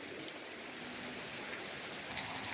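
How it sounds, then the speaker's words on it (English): Heavy rainwater runs down a residential driveway at night, a faint, steady broadband wash of flowing water and falling rain with no talking. "This is what happens when we get a lot of rain. It comes right down my driveway and we get flooded."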